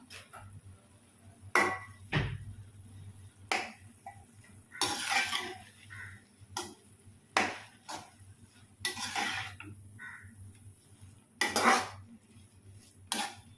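A metal spoon stirs egg into semiya biryani in a pan, giving repeated clinks and scrapes against the pan at an irregular pace, fairly close and moderately loud, with no talking.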